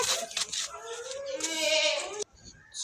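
A sacrificial goat bleats in a long, loud, wavering cry of about two seconds, preceded by shorter bleats, close to the listener.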